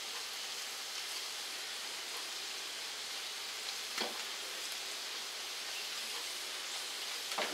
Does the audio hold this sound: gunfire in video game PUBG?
no